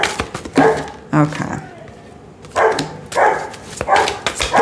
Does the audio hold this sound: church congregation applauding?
no